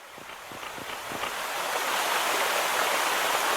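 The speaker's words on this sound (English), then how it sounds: "we're over by the waterfall" A waterfall in the Clock Tower PS1 video game gives a steady broadband rush of falling water that swells slightly louder as it continues, with no voices.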